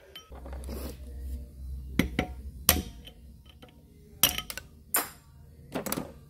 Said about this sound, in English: Whack that with a hammer.